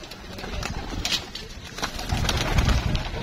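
Pigeons coo softly on a rooftop loft in Gujranwala, with low murmuring calls and faint fluttering in a busy outdoor setting.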